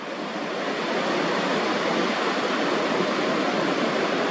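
Ocean waves breaking on a beach, a steady, loud wash of surf that rolls on without pause and with no voices.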